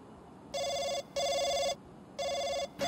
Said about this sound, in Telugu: రింగ్ అవుతుంది కానీ ఎత్తట్లేదు